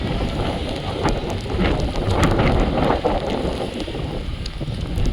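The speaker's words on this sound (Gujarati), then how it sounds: "ફૂલ વરસાદ ચાલુ છે અત્યારે." Heavy rain pours at Sudarshan Setu bridge in Dwarka, a dense, loud roar with gusty wind buffeting the microphone throughout.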